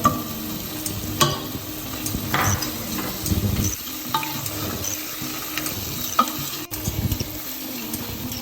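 Spices are stirred into tomato frying in olive oil, giving a continuous sizzle with scraping stirring strokes and occasional clinks of the utensil against the pan.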